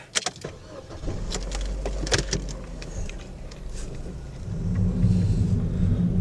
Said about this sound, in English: now we've got to drive back home